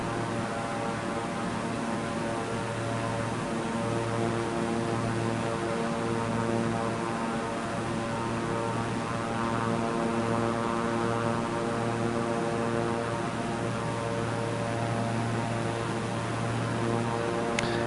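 A propeller airplane engine in Microsoft Flight Simulator 2024 drones with a steady, loud hum as the plane circles toward final approach. The tone stays even throughout, with no speech.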